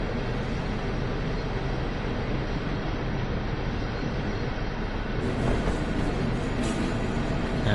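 DB Vossloh G6 shunter locomotive in Train Sim World 2, easing down in speed: a steady, dense rumble and drone with no break, a slight rise in hiss near the end.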